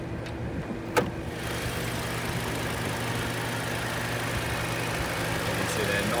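A 2018 Lexus IS300 F Sport engine idles in a low, steady rumble for several seconds, with one brief click near the start and no voices.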